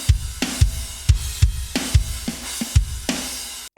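Programmed nu metal drum groove with roughly 40% swing: punchy kicks, snares and bright cymbals thump in a loose, lilting loop, close and prominent, with no talking, cutting off sharply at the end.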